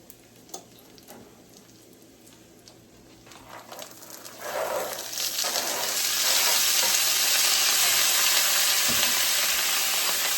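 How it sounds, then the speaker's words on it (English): Garlic and onions fry in a pan for a chicken pot pie filling, starting as a quiet crackle with light stirring and swelling into a loud, steady sizzle. "I'll put some garlic in at the very last and cook that for about 3 or 4 minutes"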